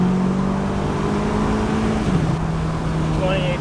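A tuned Audi S3 with a Stage 2 tune pulls hard under boost, its engine note climbing steadily and loud from inside the car, with a brief dip near the end on a warm, muggy day.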